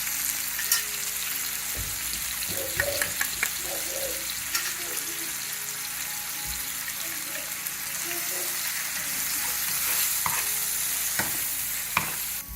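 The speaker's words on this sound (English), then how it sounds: "we're going to start adding in all of our spices in any order. And we're going to mix everything up" Spices stirred into sizzling oil in a pan for Punjabi samosa filling, a steady frying hiss broken by scraping spoon strokes and clinks throughout, close and continuous.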